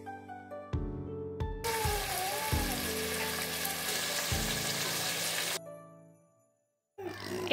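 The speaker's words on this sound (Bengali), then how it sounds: "মাংসগুলা ভালোভাবে কষিয়ে নিব" Beef pieces sizzle loudly as they are sautéed with spice paste in a pan, a steady broadband frying hiss with several stirring knocks near the start, fading out and cutting to a brief burst of sound at the end.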